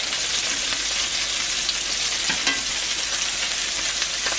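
Meatballs browning in a pan give a dense, loud, continuous sizzle up close, with a few soft knocks as they are turned and no talking.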